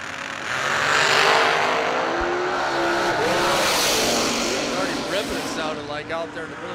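A 2008 dragster roars down the drag strip at a racing event, its loud engine note swelling and then fading as it travels away, with an announcer talking over it.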